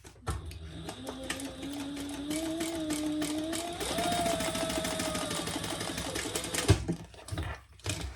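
A sewing machine stitches a shoulder bag, its motor whirring in a steady rapid run that rises slightly in pitch midway, then stops with a couple of soft clunks.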